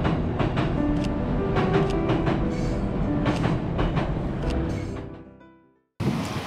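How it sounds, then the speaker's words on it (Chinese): A train rolls past a cherry blossom viewpoint at Kawazu, Japan, with a loud steady rumble and rhythmic clickety-clack of wheels that fades away before a brief cut, no voices. "有好多唔同款式嘅电车会经过"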